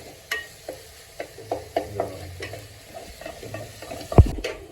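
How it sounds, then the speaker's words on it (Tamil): Onions sauté in a pan while a spoon stirs them, making soft repeated scrapes and taps over a light sizzle, with one sharper clank near the end. "வெங்காயம் வந்து வதக்குறோம் நம்ம"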